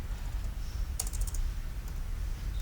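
Numbers tapped out on a computer keyboard, a quick burst of about half a dozen crisp keystrokes close by, over a low steady background hum.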